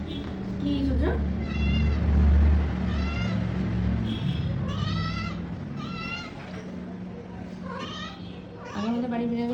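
A kitten meows repeatedly, several short rising cries spread across the stretch, close and fairly clear, with other household cats nearby and faint background noise.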